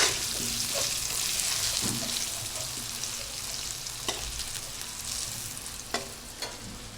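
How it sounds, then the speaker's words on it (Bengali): Potatoes fry in a pan with a steady, bright sizzle throughout, close by, while a spatula stirs them now and then with occasional scraping taps. "একটু লালচে লালচে ভেজে নিন।"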